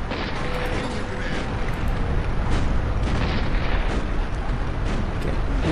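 Cannon fire during a battle in the real-time strategy video game Empire Earth 2, a loud, dense rumble of overlapping booms and blasts that keeps up without letting up.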